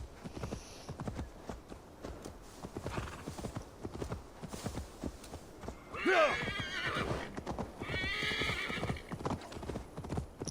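Horse hooves clip-clop steadily in Assassin's Creed Valhalla, a continuous walking rhythm with a loud whinny breaking in around the middle and another neigh toward the end.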